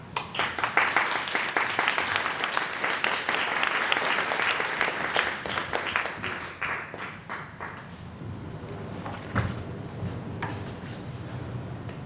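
An audience at a lecture applauds to welcome speaker Carla Hemlock: dense, sustained clapping from many hands that thins out after several seconds into scattered claps.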